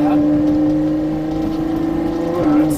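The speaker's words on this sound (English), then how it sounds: "even without an aftermarket exhaust, these cars are just so loud already from factory." Ferrari 812 Superfast with factory exhaust revving loudly, a steady close engine drone with a clear tonal hum that swells near the end.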